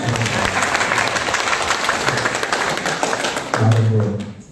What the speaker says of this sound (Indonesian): Monggo tepuk tangan buat.